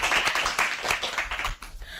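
Applause from a studio audience at an All India Radio Hisar children's and women's programme, a dense, steady patter of many hands clapping, fairly close, fading slightly near the end.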